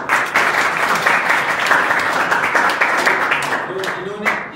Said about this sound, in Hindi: और अरविंद सर के लिए एक ताली बजा दीजिए